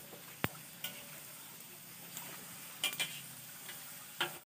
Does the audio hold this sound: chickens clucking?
no